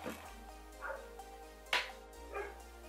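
Two pit bulls bark and yip indoors, a few short separate barks at moderate distance, one sharper and louder than the rest, over a low steady hum.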